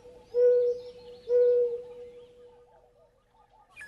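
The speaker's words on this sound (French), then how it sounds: "La tourterelle triste" A mourning dove gives two low, mellow cooing notes, each held for about half a second, followed by a fading softer coo, clear and unaccompanied by talk.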